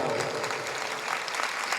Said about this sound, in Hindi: अरे और जोर से तालियां बजाओ।